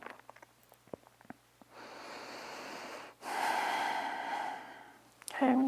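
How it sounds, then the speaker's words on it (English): Audible exhale during a yoga quad stretch in a dancer-pose vinyasa flow: a long, steady breathy rush lasting over a second, then a second, stronger breath after a brief pause, close and clear with no talking. "and an exhale."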